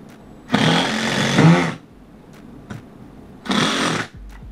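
A power drill drives a screw into a stack of many wooden layers, giving a loud, close whirring burst of about a second, a pause with faint clicks, then a second shorter burst.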